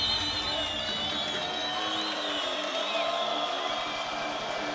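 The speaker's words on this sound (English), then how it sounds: "you can hear the crowd doing all the talking for me" A big arena crowd roars and cheers at the 2023 PUBG Mobile Global Championship Grand Finals, a loud, dense, unbroken wall of noise that holds for the full few seconds.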